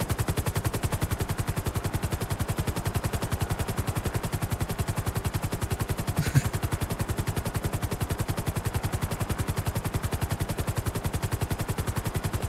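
A helicopter flying in GTA 5, its rotor chop a fast, rapid pulsing beat that runs evenly throughout, fairly loud and close with no talking.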